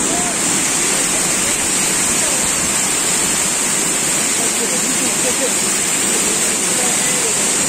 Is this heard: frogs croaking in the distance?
no